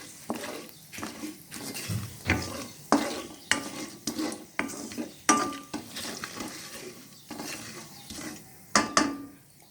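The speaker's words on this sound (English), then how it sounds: "whole peppercorns, bay leaf, and just give this a stir." Whole peppercorns, cloves and a bay leaf sizzle in oil in a wok while a utensil stirs them, giving repeated rhythmic scraping strokes against the metal over a soft frying hiss, close and fairly loud.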